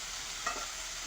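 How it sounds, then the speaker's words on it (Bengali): Ground chilli, turmeric and other spices stir-fried together in a pan for a river fish curry with aubergine, giving a brief steady sizzle with a faint stir near the end. "গুঁড়ো লঙ্কা, সব মশলা একসাথে ভালো করে কষিয়ে নেব।"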